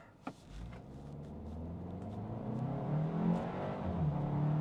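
A 2024 Hyundai Kona Limited 1.6T turbo in sport mode pulls away from a stop, a low engine drone rising steadily in pitch and loudness after a brief thump, heard from inside the cabin.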